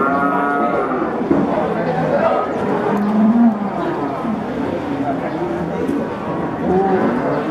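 Cattle low and moo at a busy livestock market in Pai, with beef calves and large bulls on sale; overlapping calls rise from the herd amid crowd chatter and people talking nearby.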